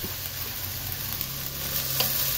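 Chicken sautéing in a pan for a mung bean (monggo) vegetable dish: a soft, steady sizzle with occasional stirring scrapes, moderately close, with no talking.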